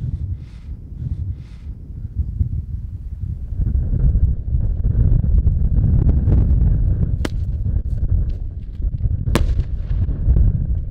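Strong wind buffets the microphone beside a lake during a feeder fishing match, a loud steady low roar across the whole stretch with a couple of faint sharp cracks.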